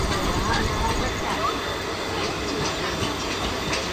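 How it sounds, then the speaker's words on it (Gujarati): A train rumbles past close by at a station platform with a steady roar and faint rhythmic clatter, voices talking underneath. "સામે અત્યારે એક ટ્રેન આવે છે"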